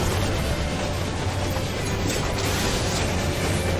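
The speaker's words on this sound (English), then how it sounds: "you're beating up an actual train" A steady mechanical rumble from the train boss in the Final Fantasy XIV Omega Sigmascape fight carries on loudly and continuously, with a low droning hum underneath.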